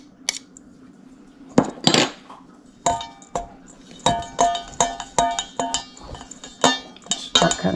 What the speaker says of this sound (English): I'll take this pastry blender